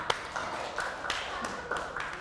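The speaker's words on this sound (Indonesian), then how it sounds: "Baik, tepuk tangan untuk kita semua, nak." A class of schoolchildren in an Islamic primary school in Banjarmasin claps together in a brief burst, a fairly quiet patter of sharp hand taps with a few stronger accents, and no talking over it.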